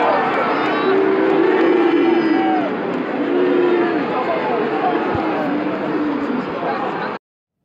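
A crowd at a rugby match shouts and cheers, with rising chant-like calls and scattered yells over a dense, continuous babble of many voices that cuts off abruptly at the end.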